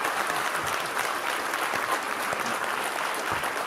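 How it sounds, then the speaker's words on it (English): Sustained applause from a film festival audience, a dense, even wash of many hands clapping at steady loudness with no voices over it. "how about an incredible round of applause for this great evening"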